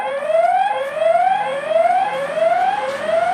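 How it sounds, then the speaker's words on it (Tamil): A loud electronic siren alarm from a security camera repeatedly sweeping upward in pitch, steady wailing cycles close by with no talking. "இதில் சைரன் அலாம் கொடுத்துருக்காங்க"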